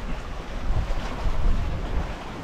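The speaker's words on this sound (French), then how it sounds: "il y a des vagues 3/4 arrière qui nous font quand même pas mal bouger" Sea waves wash steadily around a sailboat crossing from Ajaccio to the Lérins Islands, with following quarter waves rocking it. A continuous broad rush of water mixes with wind noise on the microphone, and no one talks.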